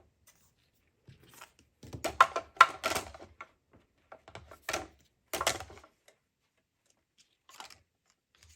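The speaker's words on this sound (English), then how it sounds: "I'm going to use the mini machine to cut out the sentiment." A mini die-cutting machine cuts out a paper sentiment for a handmade card, giving short bursts of close, dry clicking and ratcheting separated by silence.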